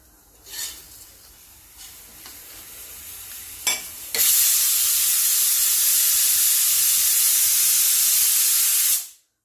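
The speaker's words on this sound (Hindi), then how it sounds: "देखिए अब 2 सीटी आ गई हैं।" A pressure cooker's steam whistle bursts into a loud, steady hiss after a few soft clinks, holding for several seconds before cutting off abruptly.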